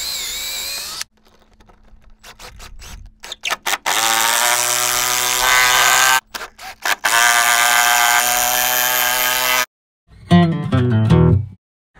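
A power driver sinks lag screws into a wooden manger in several long whining runs, each several seconds long, broken by short stops and trigger blips. The last burst is rougher and lower as a screw tightens down.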